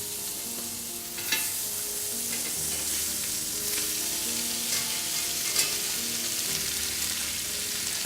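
Cornish sardines sizzling in olive oil in a hot pan, a steady loud frying hiss with a few soft scrapes and knocks of the pan, no talking.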